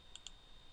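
Two quick, faint mouse clicks in close succession on a form-editor toolbar tool, alone against a quiet background hiss.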